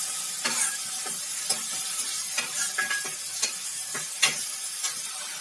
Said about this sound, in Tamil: ஒரு ரெண்டு நிமிஷம் நல்லா கிண்டி விடுவோம்